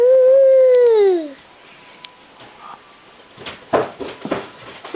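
A child imitates an elephant with a loud, drawn-out wavering trumpet-like cry lasting about a second, followed by quiet clicks, soft background noise and brief talk.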